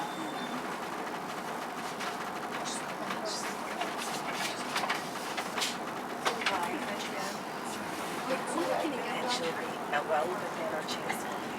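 Irish railway train pulling out of Drogheda station, a steady rolling rumble with light rail clatter and scattered clicks running throughout at moderate level; a voice talks over it.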